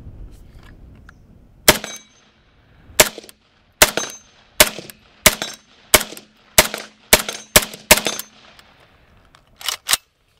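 An AK rifle fed from a Magpul magazine fires about a dozen loud, sharp single shots in a fairly steady rhythm, each with a short ringing tail, over a quiet background.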